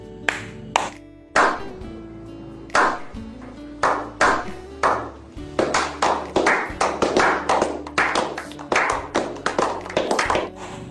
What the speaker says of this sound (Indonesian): Ya, terima kasih telah tepuk tangan.